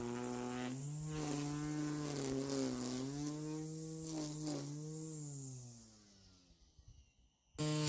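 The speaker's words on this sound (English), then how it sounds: "Ryobi grass trimmer also made a good job of cutting the thick tough grass around this step." A Ryobi One+ cordless grass trimmer cuts thick, tough grass around a step, giving a steady whining motor drone with pitch dips as the line bites. It ends abruptly in near silence before a brief burst.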